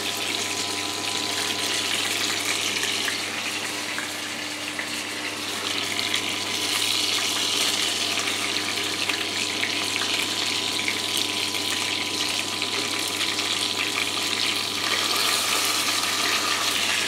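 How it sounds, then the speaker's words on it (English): Chicken schnitzel fries in hot oil, giving a loud, steady hiss and sizzle with crackling spits that runs unbroken for about seventeen seconds, with no voices over it. "As soon as juices come out of the chicken, it starts to fire and spit everywhere."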